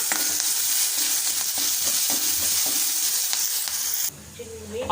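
Ginger and green chilies sizzling in hot oil as they are stirred into a tempering, a steady loud frying hiss with stirring scrapes, then the sizzle drops off sharply near the end.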